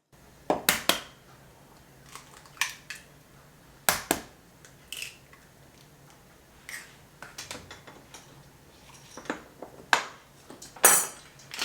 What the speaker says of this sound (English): And going to crack 2 eggs.